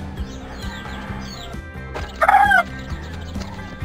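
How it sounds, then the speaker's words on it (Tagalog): A chicken clucks and cackles loudly for a moment over a steady background hum and faint rhythmic noise in a woodworking workshop. "tumilakok pa yung manok ko"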